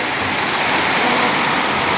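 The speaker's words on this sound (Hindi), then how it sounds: "बहुत तूफानी बारिश है" Heavy stormy rain pours at night in Riyadh as a dense, steady roar of falling water, loud and continuous, with no talk.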